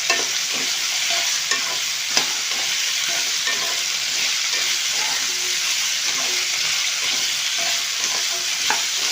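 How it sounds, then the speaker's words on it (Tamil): Onions sauté in a pan for Tirunelveli-style sodhi kuzhambu, a steady, loud sizzle running throughout with light stirring scrapes and a few faint clinks, no voices. "நல்லா வதக்குறோம். வெங்காயம் சேர்ந்து நல்லா வதக்குறது."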